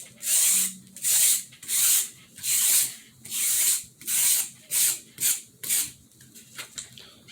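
A brush rubs down a model viking ship in about ten steady, rhythmic strokes, close and distinct, each a breathy scrubbing swish that fades toward the end.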